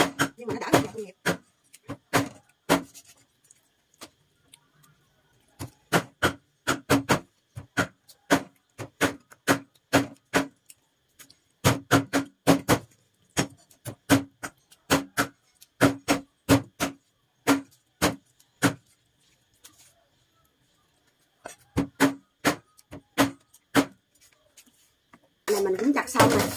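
Chicken hacked apart with a cleaver on a board, heavy chops landing in quick bursts of several strikes separated by short pauses, repeated over and over, close and loud.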